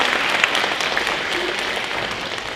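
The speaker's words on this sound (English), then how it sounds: "let's give them a round of applause" Audience applause fills a gym at a student-organized women's event, a dense steady wash of clapping held for a few seconds with no voices on top.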